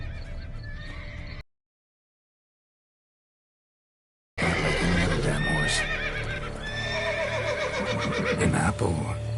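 A horse in The Witcher video game neighs and whinnies amid game sounds, with hoof clip-clop, a short burst, then silence, then a louder busy stretch of horse noise.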